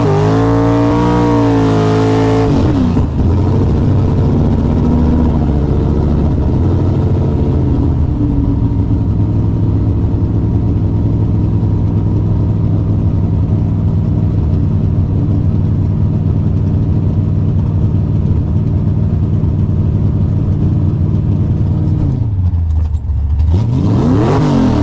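Drag racing cars launch and accelerate hard down the strip during a race run, roaring loud and close with a steady high-revving engine drone for over twenty seconds. Revs sweep at the start and the engine cuts off near the end.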